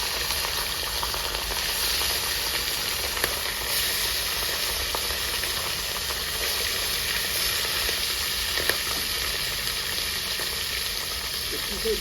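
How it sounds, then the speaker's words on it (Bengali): Rohu fish fries in hot mustard oil in a village-style kitchen. A loud, dense, unbroken sizzle fills the whole stretch, close and constant. "তেলটা গরম হয়ে গেছে মাছটা দিয়ে দিই"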